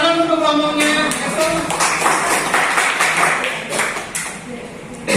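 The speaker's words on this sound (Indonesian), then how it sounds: "Tepuk tangan untuk kelompoknya" A short burst of clapping from a classroom group of students, rising after a brief spoken line and continuing as scattered, uneven applause for a few seconds.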